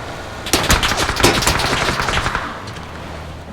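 Beryl assault rifle gunfire in the PUBG video game: a rapid, loud automatic burst of closely spaced shots lasting about two seconds, followed by quieter fading echoes.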